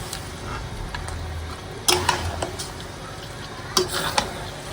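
Meat stir-frying in a pan: a soft steady sizzle with scraping stirs, and sharp clatters of a spatula against the pan at intervals, close and moderately loud.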